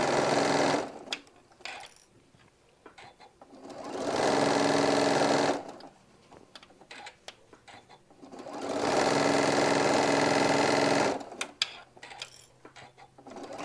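A sewing machine stitches a hobo bag seam and back-tacks near the top of the pockets, in two long loud bursts of steady whirring separated by quieter pauses filled with handling clatter.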